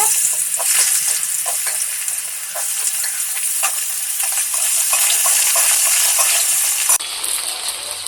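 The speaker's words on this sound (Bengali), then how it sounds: "তেল গরম হয়ে যাচ্ছে আলু দিয়ে দিচ্ছি আলুগুলো ভেজে নিচ্ছি" Potatoes fry in hot oil in a pan, a loud, continuous sizzle with scattered crackles and occasional stirring clinks, shifting slightly in tone near the end.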